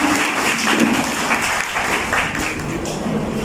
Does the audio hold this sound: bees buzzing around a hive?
no